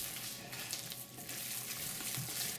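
Pork and chive dumpling filling mixed with shrimp, dried scallop, ginger, garlic and soy sauce is stirred in one direction, giving faint, close, wet churning and scraping in uneven bursts.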